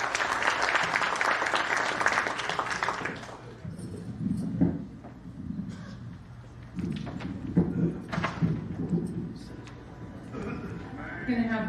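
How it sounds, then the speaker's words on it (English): Audience at a community event applauding a Congressman, a burst of clapping for about three seconds that fades as a voice begins speaking and continues over room noise. "Once again, round of applause for the Congressman."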